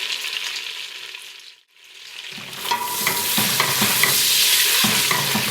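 Whole spices such as cardamom, shahi jeera and nutmeg frying in melted butter for shahi chicken biryani; a brief lull gives way to a rising, steady close sizzle with scraping stir strokes.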